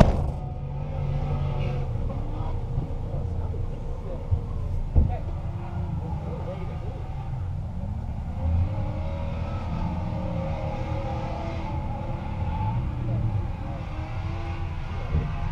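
A rally car's engine idles roughly and rumbles low and steady near a group of people, with a small rev in the middle. Voices chat on top of it.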